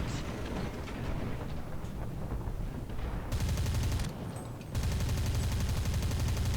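A T-60 light tank in War Thunder fires its rapid autocannon at a distant Panzer II, heard as two bursts of dense, steady automatic fire with a brief pause between them.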